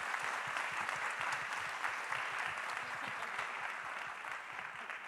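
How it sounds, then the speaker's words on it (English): A conference audience at a global food policy forum gives a sustained round of applause for steering committee representatives, many hands clapping steadily at moderate distance with no speech over it. "So let's start with a great round of applause with our steering committee representatives."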